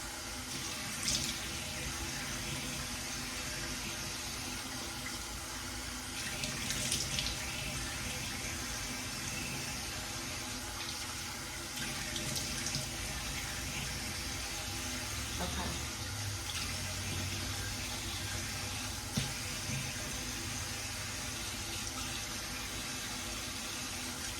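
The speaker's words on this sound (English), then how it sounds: "cold water does help. So I'm gonna finish washing my face." Cold water runs steadily from a bathroom sink tap while someone splashes and washes their face, a continuous close hiss of flowing water with occasional louder splashes.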